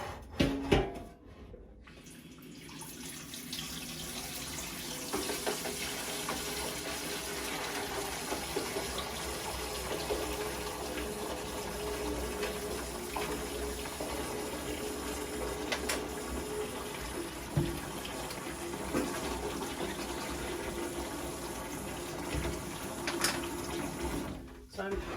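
Hot water gushes steadily from a tap to fill a yarn dye bath, a continuous broadband rush that starts after a brief pause and runs unbroken at a moderate level.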